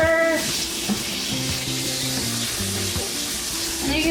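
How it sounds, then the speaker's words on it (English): Tofu scramble sizzles steadily in oil in a pan, a close, continuous frying hiss with scraping stir sounds throughout. "Give it a stir."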